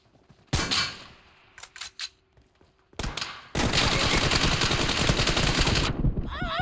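Gunfire in a team deathmatch video game: a few sharp single shots and short bursts, then a long sustained stream of loud automatic fire close by.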